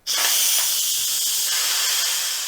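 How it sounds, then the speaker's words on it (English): Steady, loud hiss of steam venting from an Instant Pot pressure cooker's release valve, starting abruptly and holding constant for about two and a half seconds before cutting off. "Once the time is up, you can release any pressure."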